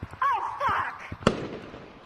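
Fireworks go off close by: a wailing, whistling rise ends in one sharp, loud bang that decays quickly, with faint voices around it.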